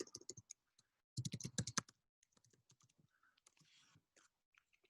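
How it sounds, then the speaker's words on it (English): Someone typing an email on a computer keyboard: quick bursts of close, light key clicks separated by short pauses, then a scatter of fainter taps, with no voices. "Let me type my email."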